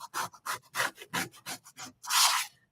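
Scraping a surface during beeswax crafting, heard as a series of short, close, rasping strokes in a quick uneven rhythm, ending with one longer, louder scrape.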